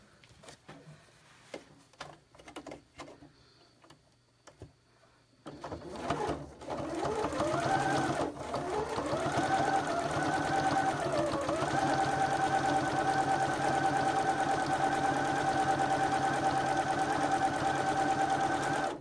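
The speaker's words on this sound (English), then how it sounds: "I'm going to stitch all just along here in one row." A sewing machine runs steadily, stitching sideways along fabric in a single row. Its even, continuous whirring follows a few seconds of faint handling taps and carries on to the end.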